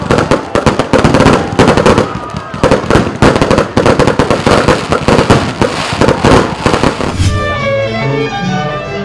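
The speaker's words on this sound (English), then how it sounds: "The evenings were wrapped up with incomparable spectacles of fireworks" An evening fireworks display at celebrations in Anambra state, with dense rapid crackling and popping bursts in close succession, loud and continuous. Music and a voice take over near the end.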